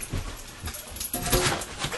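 A female dog doing trick training gives soft, brief whimpers and whines close by, a few short high cries over faint rustling.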